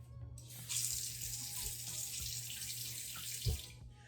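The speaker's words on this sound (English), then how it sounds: "I'm going to water this plant in." Tap water runs steadily into a sink while a potted plant is watered in, a close, continuous hiss with small splashes and one brief thump near the end, no talking.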